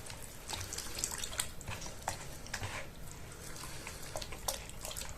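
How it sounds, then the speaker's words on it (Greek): Sourdough starter stirred and dissolved in water for Greek lagana flatbread, soft close sloshing and liquid swirling at low volume, with no speech. "Θα διαλύσουμε το προζύμι μέσα στο νερό."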